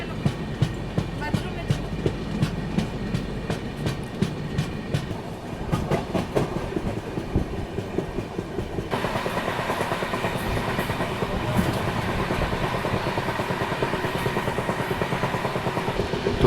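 The Danapur Secunderabad Express runs on its rails, heard from on board as a continuous rumble with rhythmic clickety-clack wheel beats over rail joints, loud and close throughout, with muffled voices underneath.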